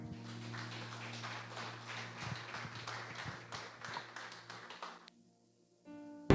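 Church congregation clapping together in a dense, steady burst of applause that runs for about five seconds over a low sustained tone, then stops abruptly into near silence.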